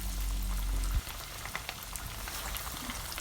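Loud, dense sizzling of chicken wings frying in hot palm oil, a steady crackling hiss with a low rumble cutting out after the first second.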